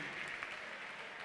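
Applause, heard as a steady wash of clapping that stays at an even level throughout the short moment, with no clear voices on top.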